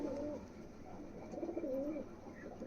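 Pigeons coo in a loft, with soft, rolling calls close by that swell and fade in two bursts over low background hiss.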